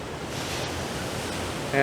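Surf rolling onto a long seven-kilometer beach in Nha Trang, Vietnam, a steady broadband wash with wind noise on the microphone, continuous and fairly close, with a brief tonal sound near the end.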